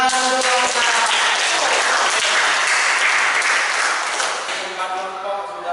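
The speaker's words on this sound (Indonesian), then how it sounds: "Tepuk tangan dulu." A room full of students and teachers in an Indonesian school classroom claps steadily, loud and sustained, tapering slightly toward the end.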